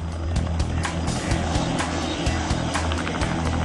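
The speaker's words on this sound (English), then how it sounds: "As the plane makes its final descent" An airplane making its final descent drones loudly and steadily close by, a low engine hum with a rapid, regular pulsing throb running through the whole stretch, with no voices.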